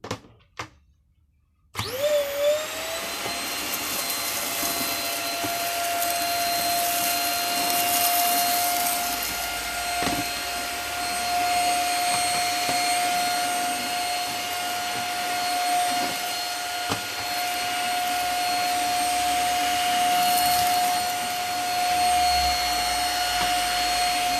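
A Sinbo SVC-8616 upright electric vacuum cleaner switches on after a brief pause and runs steadily with a loud whine and airy roar, no talking.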